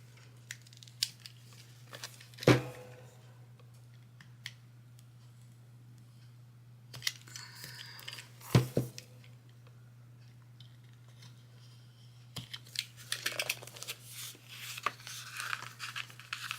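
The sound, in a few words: small cutter cutting paper for craft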